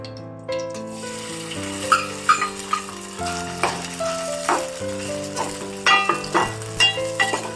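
Sago pearls roast in melted ghee while a spoon scrapes and stirs them in a steady, close sizzle, with a tonal musical hum running underneath and no speech.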